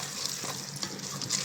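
Spice paste for a sea fish curry frying in a pan, giving a steady, close, moderately loud sizzle with faint bubbling and scraping. No one talks.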